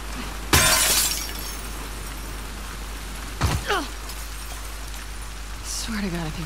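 Glass shatters in The Last of Us Part II, a sharp loud crash followed seconds later by a second smaller breaking burst, with faint rain-like ambience and a voice near the end.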